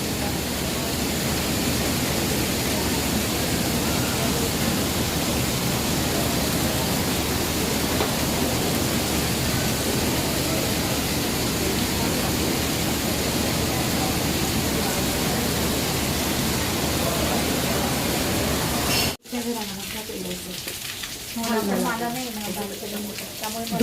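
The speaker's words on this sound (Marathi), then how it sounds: "खूपच पाऊस पडतोय" Dense, roaring downpour of heavy rain, loud and continuous, then abruptly quieter as the sound shifts to a more muffled, enclosed setting near the end.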